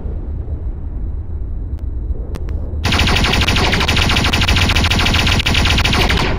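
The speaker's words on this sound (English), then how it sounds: "That is insanely accurate firing." A laser pistol in VRChat opens up after a few isolated clicks and cracks, then fires in a loud, dense, rapid burst that holds steady for several seconds.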